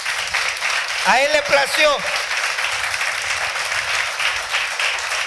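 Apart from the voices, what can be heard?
church congregation clapping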